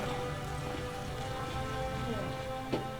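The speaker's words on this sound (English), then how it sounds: "Well, it's raining anyway." Steady rain falls across an Elder Scrolls Online game scene as a dense, even hiss with no speech over it. One slightly louder patter stands out near the end.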